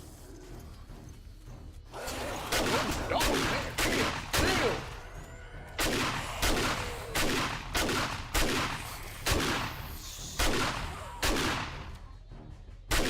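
Shotgun blasts from the survival game 7 Days To Die in a big city, fired in a steady rhythm: about a dozen sharp, loud bangs roughly a second apart, each with a short reverberant tail, with no talk over them.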